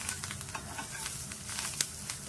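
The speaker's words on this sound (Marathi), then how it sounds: "मिरच्या लसूण आता फ्राय होत आलेले आहेत।" Green chillies, garlic and coriander sizzle softly in hot oil in a pan, a quiet steady crackle with small pops and stirring, no voices.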